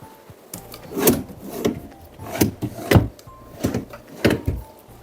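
Small wooden drawers in the side section of a sofa with MDF oak-finish panels slide open and shut repeatedly, several sharp knocks and scraping rubs close up, with no voices.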